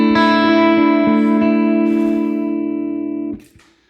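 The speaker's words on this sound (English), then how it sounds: "another reverb called Searchlights. It's kind of like one of those Strymon Blue Sky pedals." Electric guitar through a Searchlights reverb pedal, a loud sustained chord with a few picked notes ringing into a long shimmering reverb wash that fades, ending in a couple of soft handling clicks.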